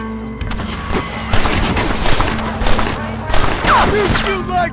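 Rapid gunfire crackles through a Red Dead Redemption shootout in the video game, with dense overlapping bursts of shots, booms and a ricochet whine, loud and close throughout.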